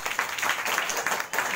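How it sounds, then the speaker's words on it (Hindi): A group of schoolchildren clapping for themselves in a classroom, a steady, dense burst of applause at moderate loudness with no pauses. "चलो तो अपने लिए ताली बजा लो"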